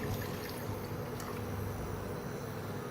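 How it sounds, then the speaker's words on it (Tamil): Water pours steadily into a pot, a continuous splashing rush close by, with no voices. "அதில் ஒரு கிளாஸ் அளவு தண்ணி ஊற்றிக்கலாம்"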